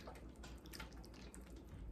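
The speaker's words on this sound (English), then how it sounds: "And now we just want to pour this glaze" Coca-Cola pineapple glaze poured over a holiday ham, a soft continuous liquid splashing and trickling sound, steady and close, with no talking.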